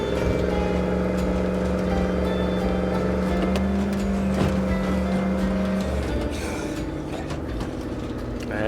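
A car driven in the video game State of Decay 2: a steady, loud engine drone with a humming tone and mechanical rattles that eases slightly near the end.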